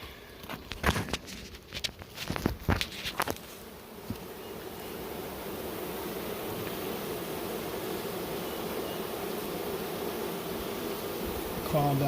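A cluster of honey bees hums as it is removed from a structure in North Brookfield. A few sharp knocks and handling bumps come first, then a dense, steady, close buzzing that holds to the end, with faint voices at times.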